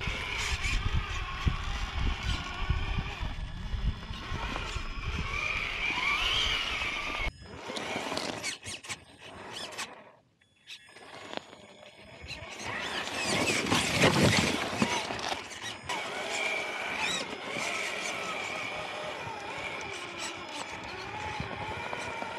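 A Traxxas TRX4 2021 Ford Bronco RC truck climbs an incline, its electric motor whining over crunching and scraping noise, with a brief quiet gap midway and some voices in the background.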